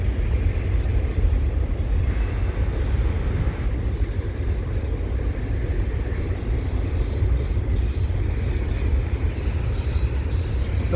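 A CPKC AC4400CW locomotive hauls a double-stack and mixed freight train past Dorval, a loud continuous rumble of rolling cars and wheels with steady low-end roar and occasional faint squeal, close by and without talking.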